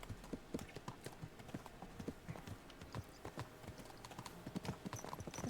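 Horse hooves clip-clop in a video game, a brisk, even rhythm of close, crisp hoof strikes continuing steadily throughout.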